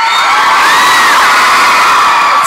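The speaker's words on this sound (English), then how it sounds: "I want you to scream it out," A dense concert crowd at a pop show in Birmingham screams and cheers loudly and without a break, high shrieks layered over the steady roar.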